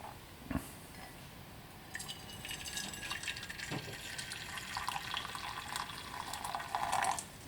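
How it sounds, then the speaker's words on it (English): Boiling water splashes and trickles steadily into a pan, a soft continuous pouring and bubbling with a few light clinks, close by and with no talking. "So let's put some boiling water,"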